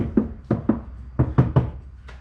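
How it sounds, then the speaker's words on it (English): Knuckle knocks on the inside door panel of a Honda CR-V, six or seven hollow, resonant thuds in an uneven rhythm, close and fairly loud. "You can like knock on it"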